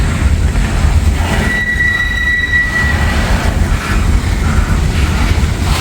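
A long freight train rolls past close by with a loud, steady rumble, while a sustained high wheel squeal rises for a couple of seconds in the middle.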